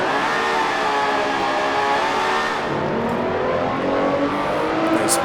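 A race car in Grand Prix Legends at Spa holds a loud, continuous engine roar with rising harmonics during a burnout, up close and with no voices present.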